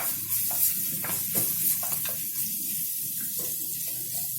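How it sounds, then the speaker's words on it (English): Grated ginger and garlic sizzle steadily in olive oil in a pan for a home vegetable soup, a continuous close frying hiss with faint stirring scrapes and no talking. "To this olive oil, we're first going to add our ginger and garlic"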